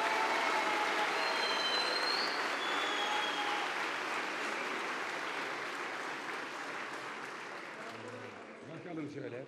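Loud, sustained applause from a large audience at a party group meeting in the Turkish parliament, a dense continuous clapping that holds steady and then tapers slightly toward the end.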